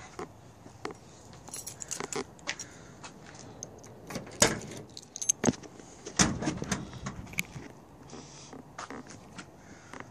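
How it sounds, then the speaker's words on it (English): Trunk of a 1973 Chevy Caprice hardtop being opened outdoors, scattered clicks, a metallic latch clunk and handling knocks, fairly faint and sparse. "let's open up the trunk so you can see what the trunk looks like"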